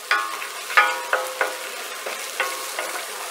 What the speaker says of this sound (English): we're going to go ahead and just get these stirred up